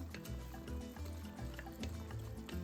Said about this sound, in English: to this I'm gonna add a 1/4 cup of beer